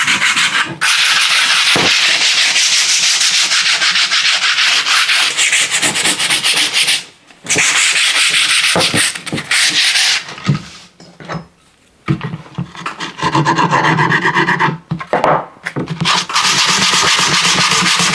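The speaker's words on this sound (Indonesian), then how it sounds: "Jadi kita gosok dulu dengan amplas. Kebetulan ini amplas 100 ya." Hand sanding a small wooden house number with 100-grit sandpaper, long stretches of close, raspy back-and-forth rubbing broken by a few short pauses.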